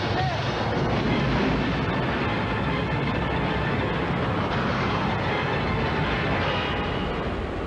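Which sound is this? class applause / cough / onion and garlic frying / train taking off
train taking off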